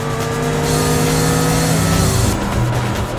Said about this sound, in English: I love how distinct the rotary engine sound is here.